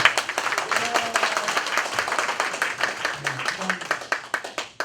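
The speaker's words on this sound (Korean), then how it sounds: "힘찬 박수 한번 보내주시죠." Hands clap in a quick, uneven patter at an indoor union meeting as the audience gives a round of applause, with a voice speaking over the clapping.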